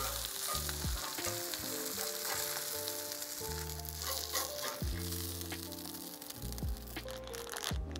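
Thin ground beef sizzles steadily on a gas grill, a dense close frying crackle broken by scraping and stirring sounds from a spatula.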